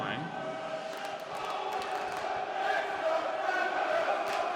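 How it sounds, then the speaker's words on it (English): Nottingham Panthers ice hockey fans cheer in a cold rink during a Continental Cup game. A steady, mid-distance crowd roar swells slightly, and talk runs over it. "You can hear the Panthers fans to our left cheering the boys on"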